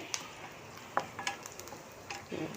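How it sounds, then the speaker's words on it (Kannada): Onions fry quietly in a pan for beetroot palya, with soft sizzling and a few light clicks and scrapes of stirring, faint and close with no voices. "ಈರುಳ್ಳಿನ ಹಾಕಿ ಸ್ವಲ್ಪ ಮಿಕ್ಸ್ ಮಾಡೋಣ ನೋಡಿ ಈಗಾಗಿದೆ ಇದು ಫ್ರೈ ಇದು ಫ್ರೈ ಆಗಿದೆ ನೋಡಿ ಇನ್ನೊಂದು ಸ್ವಲ್ಪ ಫ್ರೈ ಆಗುತ್ತೆ"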